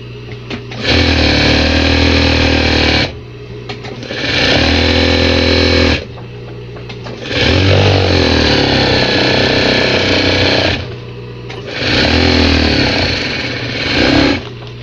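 An industrial straight-knife cutting machine slices through fabric or vinyl in four bursts of loud, buzzing motor whine and blade chatter, separated by brief quieter idle pauses.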